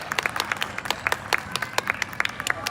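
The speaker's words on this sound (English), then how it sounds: "Let's give them another round of applause for that, folks." An audience at an aquarium sea lion show applauds, a crowd of many hands clapping with sharp, irregular claps on a steady background, fairly close and without talk.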